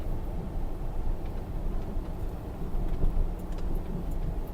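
A garbage truck hauling a loaded refuse bunker along city streets, heard as a continuous loud engine rumble and road noise from inside or close by, steady throughout with no talking.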